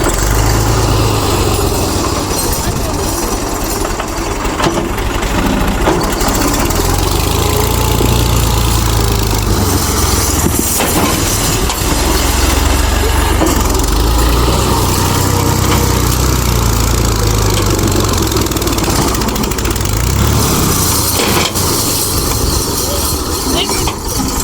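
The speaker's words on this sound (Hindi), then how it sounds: "अभी ट्रैक्टर आएगा वापस।" Tractor engine running loud and close, a continuous rough mechanical drone with rumbling low throb that holds steady throughout, with voices talking over it.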